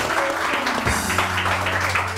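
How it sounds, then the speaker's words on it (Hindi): A morning TV studio audience applauds another guest, continuous broad clapping held at an even level with a low steady tone underneath and a brief voice. "पिंकी के लिए बहुत सारी तालियां।"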